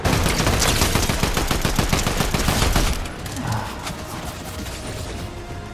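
Dense, rapid gunfire from a video game fills the first three seconds, loud and continuous, then gives way to quieter scattered game sounds and effects.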